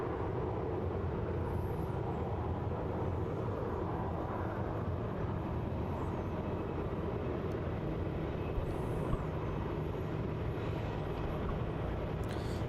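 Down at Melbourne Airport, an airliner touches down on the runway as a steady, faint, distant rumble of engines and wind with no clear peaks, and no voices.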